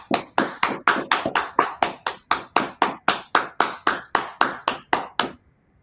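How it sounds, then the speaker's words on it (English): A short burst of around twenty sharp, evenly spaced hand claps for cyclist Chris Hoy, quick and crisp, ending abruptly with a brief silence after. "Let's do a 10-second round of applause for"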